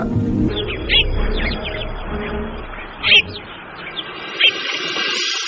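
A caged bird in a cartoon folk tale gives a few short, bright chirps spaced a second or two apart, rising over a murky backdrop of low music and ambience.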